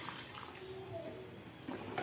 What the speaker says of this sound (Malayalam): കുക്കറിൽ വെള്ളം ഒഴിച്ച് ചൂടുവെള്ളം ഒഴിച്ചത് അതും കൂടി ഒഴിച്ച് കൊടുത്ത്